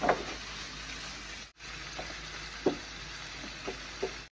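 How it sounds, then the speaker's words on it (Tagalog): Beef for garlic pepper steak frying in a pan, giving a steady sizzle throughout with a few faint ticks and taps of cookware. "Lutuin lang natin na mabuti yung ating beef."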